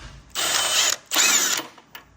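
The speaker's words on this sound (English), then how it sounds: "You could do it with a ratchet too, but we like power tools, man." Power tool, likely an impact driver, loosening a 19 mm tie rod nut during clutch work on a Honda Civic Mugen Si: two loud, close bursts of whirring, rattling mechanical buzz, each lasting under a second, then a brief tap.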